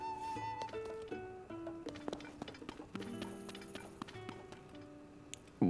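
Horse hooves clip-clop at a steady trotting rhythm in the video game The Legend of Zelda: Tears of the Kingdom, faint and close, mixed with soft in-game music tones and no talk.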